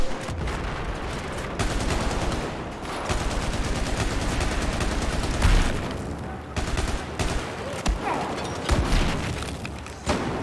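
Grenade blasts and bursts of gunfire from a Battlefield 4 firefight, with dense, continuous shooting and repeated heavy explosive thumps throughout, loud and close, while a player's voice speaks briefly.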